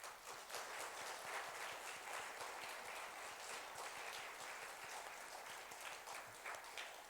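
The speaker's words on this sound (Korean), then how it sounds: "우리 뜨거운 박수로 환영해 주시기를 바랍니다" A church congregation applauds to welcome children and youth at a worship service, a soft, steady wash of many hands clapping heard from a distance throughout.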